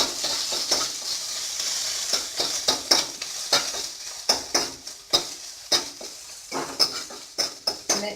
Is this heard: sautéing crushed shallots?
yes